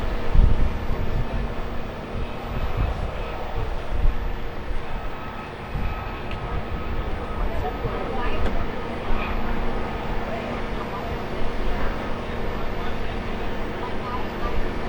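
A tour tram rumbles steadily along with a low mechanical drone, its noise easing slightly toward the end as it comes to a stop, while a voice speaks over it.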